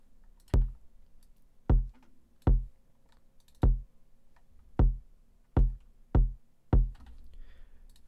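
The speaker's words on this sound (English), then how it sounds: "The kick sounds like this." Eight punchy, soft-clipped kick drum hits from an FL Studio beat ring out alone. Each is a deep thump with a short tail, spaced unevenly about a second apart.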